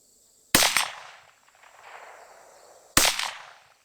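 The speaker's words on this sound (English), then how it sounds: "5 rounds, shoot some steel." Two sharp, loud cracks from a Rossi RS22M .22 Magnum rifle fired at steel targets about 50 yards away, spaced a couple of seconds apart, each followed by a short fading echo in open air.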